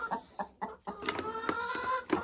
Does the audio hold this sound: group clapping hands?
no